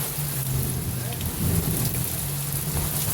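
Steady heavy rain from an Ohio rainstorm pours down continuously, a dense, even hiss with low rumbling underneath and no break.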